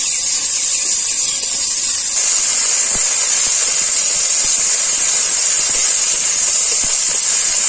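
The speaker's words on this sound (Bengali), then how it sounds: "এরপর আমি এর মধ্যে ভেজে রাখা বাটা মশলাটা দিয়ে দেব" Fried spice paste sizzles loudly in hot mustard oil in a kadai while palak paneer is cooked; a strong, continuous frying hiss holds steady throughout with faint scraping clicks and no talk.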